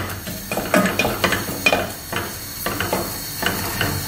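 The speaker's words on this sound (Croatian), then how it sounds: "pržit će se na ulju." Finely chopped onion fries in oil in a pan, giving a steady close sizzle and hiss broken by repeated scraping stir strokes and light utensil clinks.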